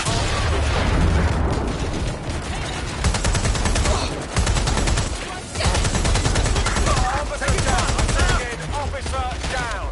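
Heavy gunfire in the Watch Dogs Legion video game, rapid automatic bursts and overlapping shots crackling almost continuously with brief lulls, loud and close, with shouted voices mixed in.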